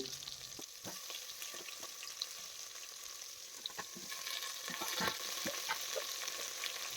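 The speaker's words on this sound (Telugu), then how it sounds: "మునక్కాయలు దోసకాయలు క్యారెట్ టమాటో ఆనియన్ ముక్కలను కూడా వేసుకొని ఫ్రై చేసుకోవాలి" Drumsticks, cucumber, carrot, tomato and onion pieces fry in a pan for sambar with a soft, steady sizzle and occasional stirring taps. The sound is faint and distant and grows slightly louder toward the end, with no voices.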